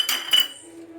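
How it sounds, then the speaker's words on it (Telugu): A utensil clinking against a bowl while mashing ingredients for prawn biryani, two quick close metallic chinks with a short ringing tail, no talking. "ఇప్పుడు మ్యాష్ చేయాలి"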